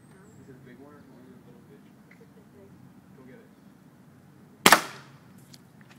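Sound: air rifle shot

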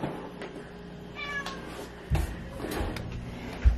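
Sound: cat meowing near a deep freezer

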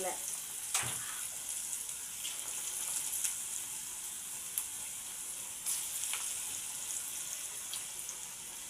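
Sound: small broad-bean garelu fritters frying in oil

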